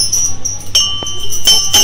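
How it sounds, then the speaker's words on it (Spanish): Small restaurant bell in Udaipur, India, struck several times, its bright ringing tones sounding close and loud, each strike leaving a sustained shimmer. "entonces vamos a tocar la campana"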